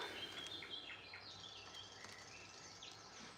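Faint birds chirping in the background, scattered short high tweets and calls over a quiet, steady room hiss.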